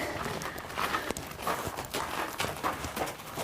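Hooves of horses clip-clopping at a walk on a ranch corral, a steady irregular sequence of close, fairly quiet hoof strikes with no talking.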